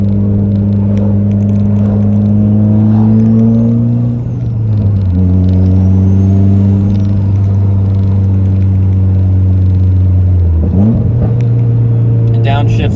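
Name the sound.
Mitsubishi Lancer Evo X driving, shifting gears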